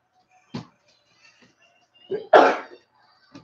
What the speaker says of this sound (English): That was a sneeze. The pepper got in my nose.